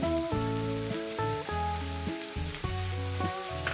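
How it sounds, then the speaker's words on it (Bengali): Onions frying with dried fish in a pan beside a river give a steady close sizzle and crackle with faint stirring, and no voices. "দিয়ে আরো মিনিট 2-3 ধরে এটাকে আমি এইভাবে একটু ভেজে নেব।"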